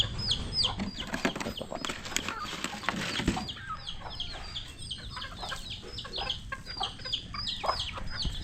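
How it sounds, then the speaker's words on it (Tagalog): A flock of chickens being fed clucks and squawks busily all the way through, with wings flapping and pecking noises close by. "Papakain po muna tayo ng manok."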